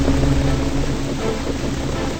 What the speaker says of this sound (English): There is a storm.